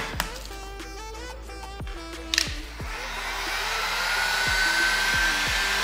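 Heat gun blowing hot air over vinyl wrap film stretched on a car bumper, a steady airy whoosh that swells and holds, with a few light taps and clicks from handling near the start and no talk.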